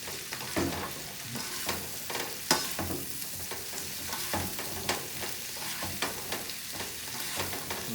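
Salt and pepper shrimp sizzling in a pan while being stirred, a steady crackling fry broken by repeated scraping and tapping strokes of the utensil, close and moderately loud.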